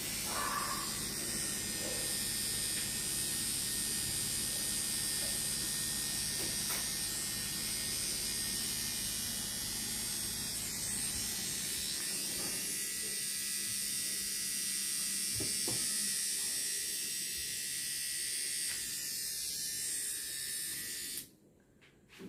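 Electric trimmer buzzing steadily while trimming eyebrows and facial hair, a close, continuous whirr that changes tone as it moves over the skin, then cuts off near the end.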